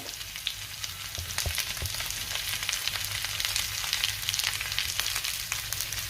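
Cumin seeds frying with sautéed onion, ginger, garlic and tomato for chole masala, making a close, steady sizzle with crackling pops and occasional stirring clicks, no speech.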